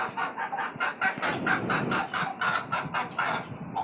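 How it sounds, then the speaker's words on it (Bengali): Domestic desi and tiger chickens in a cage on a five-storey rooftop farm cluck and call in a steady stream of overlapping bursts, close and fairly loud, with no talk. "এই হচ্ছে আমার শখের মুরগির খামার"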